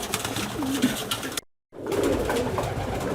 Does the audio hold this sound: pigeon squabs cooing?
yes